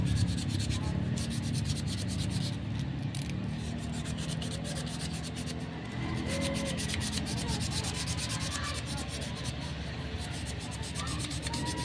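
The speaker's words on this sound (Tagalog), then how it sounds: "Tapos kuha tayo ng liha. Yan, lihain natin siya para tatanggal natin." Sandpaper rubbing steadily against a part of a Camel table fan that hums but won't spin its blade, a continuous close scratchy rasp lasting throughout.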